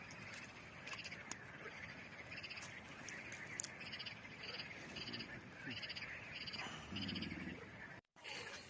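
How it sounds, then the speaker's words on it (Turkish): Frogs croak steadily in a repeating chorus outdoors by a campfire at a fishing spot, fairly faint, with a few sharper chirps and clicks mixed in. "Kurbağa sesleri."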